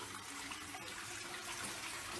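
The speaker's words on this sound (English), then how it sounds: "The brown water coming out of this sink is polluted and dangerous." Brown, polluted water gushes steadily from a sink tap in a Northern Ontario community, a continuous broadband hiss and splash that stays even and close throughout with no voices.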